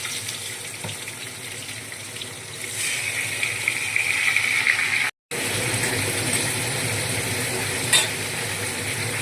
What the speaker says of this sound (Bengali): এবার মাংসগুলোকে একটু ভেজে